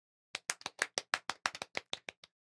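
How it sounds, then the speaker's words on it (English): A small group claps sparsely and unevenly during a podcast, about a dozen distinct close hand claps in a short burst, quiet and alone against silence. "Are we doing claps in the background?"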